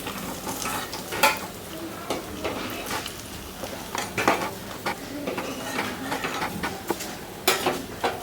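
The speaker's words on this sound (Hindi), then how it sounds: "ये देखिए मछली फ्राई हो गया है" Fish frying in a pan in a home kitchen, with a steady sizzle and clinking and scraping of a utensil against the pan, with louder stirring bursts at intervals. No voices.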